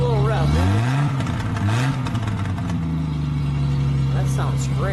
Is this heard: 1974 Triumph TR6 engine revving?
yes